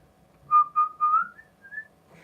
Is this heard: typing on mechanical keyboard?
no